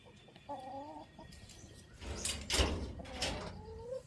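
Chickens cluck softly in short bursts, fairly close, alongside a couple of loud scraping, sliding noises.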